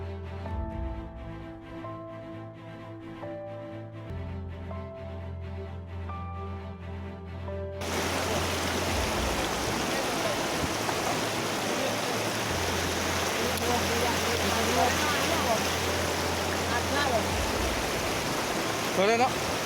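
Loud, continuous roar of a cold lahar flood rushing over Tumpak Sewu waterfall, surging in abruptly after a quieter, music-like opening and then staying dense and steady.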